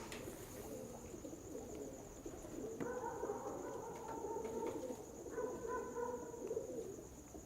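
Pigeons, kept fancy birds, coo softly in a couple of low, rolling phrases over faint background hum, close and alone without talk.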